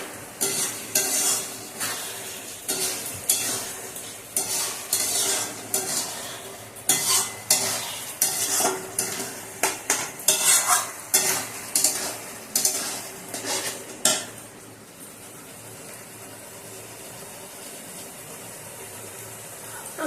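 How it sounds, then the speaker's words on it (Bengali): A spatula scrapes and stirs spices into a bata fish curry with ginger in a sizzling pan, repeated close, rhythmic strokes over a frying hiss for about fourteen seconds, then only a soft simmering hiss remains. "এখন মশলাটা দিয়ে দেওয়া হবে এবং ওটা দিয়ে একটু নাড়িয়ে"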